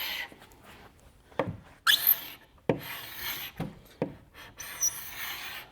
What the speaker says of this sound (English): This is basically just taking the finish layer off, and some of the color will probably come off with it